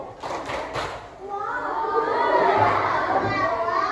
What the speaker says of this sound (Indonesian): Yo, tepuk wow, tepuk wow.